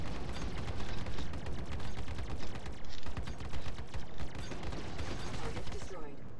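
Hornet spaceship guns fire in the Star Citizen video game as rapid, repeated bursts of shots, dense and loud throughout, with a brief lull midway before the firing resumes.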